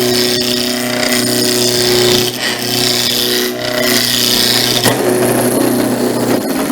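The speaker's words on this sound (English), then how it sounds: "just a simple spindle ruffling gouge, and we're just going to take it down to round" A spindle roughing gouge cuts a wooden top blank spinning on a lathe, taking it down to round. The cut is a continuous close, loud scraping and rasping with steady motor hum and slight dips in intensity, and no talking.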